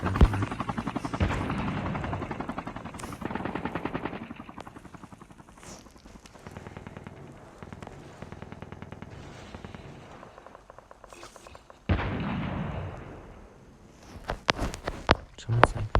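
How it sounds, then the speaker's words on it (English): Call of Duty Mobile gunfire during a shotgun-only match, scattered shots and bursts mixed with helicopter-like engine drone and footsteps, loud and busy in the game audio. "Cause I just hear shots going off everywhere."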